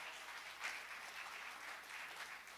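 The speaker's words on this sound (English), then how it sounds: "Yeah, big round of applause for y'all." Applause from a church service crowd honoring Christmas volunteers, a soft, steady wash of many hands clapping at some distance, fairly quiet and even throughout.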